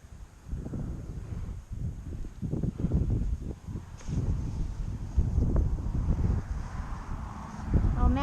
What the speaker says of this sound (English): I think that's because it's a windy day